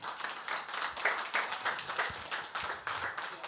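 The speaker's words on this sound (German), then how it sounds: "da kann man nochmal klatschen" An audience at a photo festival podcast event claps, a continuous patter of many hands with some individual claps standing out, moderately distant and fairly quiet.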